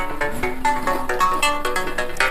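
A melodic phone ringtone plays alone, a bright repeating electronic tune with steady pulsing notes, fairly loud and close, in a rural Indian home setting.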